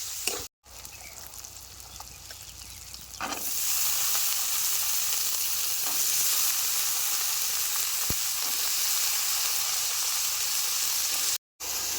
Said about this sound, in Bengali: মশলাপাতির সাথে মটরশুঁটি আর আলু ভালো মতো কষায় নেবো